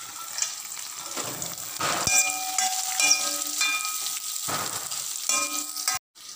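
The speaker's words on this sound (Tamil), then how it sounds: "இஞ்சி பூண்டு 10 பல்லு இஞ்சி 2 துண்டு போட்டு வதக்கிறேன்" Garlic, ginger and cashews sizzle and crackle steadily in a hot pan, with occasional stirring scrapes and clinks over the frying, close up, until an abrupt cut near the end.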